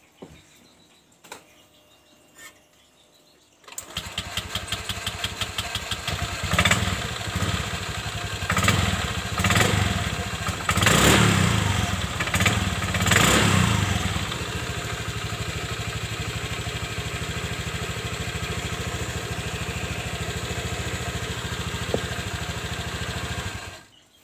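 A Honda Vario 125 scooter with weak, sluggish pulling is started after a few quiet seconds, then settles into a steady, close idle that runs on alone with faint birdsong in the background.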